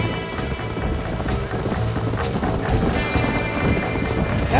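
A horse gallops in Red Dead Redemption, rapid rhythmic hoofbeats pounding steadily and close under a dense layer of game ambience and music.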